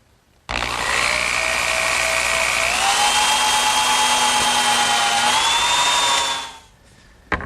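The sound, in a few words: drilling a pivot hole in wood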